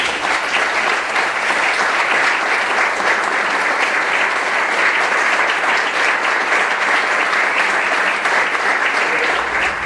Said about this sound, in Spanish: pido por favor un fuerte aplauso para ella